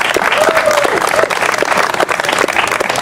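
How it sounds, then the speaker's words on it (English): Enthusiastic applause at a high school speech contest during a harvest festival, a crowd clapping loudly and continuously with a few cheers and faint voices mixed in. "Let's give her another round of applause"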